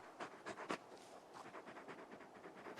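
A large dog panting in Final Fantasy 16, quick rhythmic breathy puffs, very faint and close, repeating steadily without other sound.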